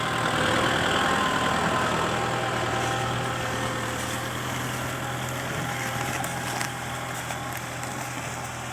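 A Kubota M6040 60 hp turbo tractor idles steadily at middle distance while ridging soil for cassava planting, a constant, even drone with no change in pitch.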